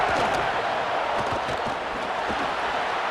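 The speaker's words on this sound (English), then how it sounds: "Here comes this home crowd as the defense tries to get off the field on 3rd down." A home crowd at a football game roars in a steady, loud wash of cheering and noise that holds throughout, with no clear talk over it.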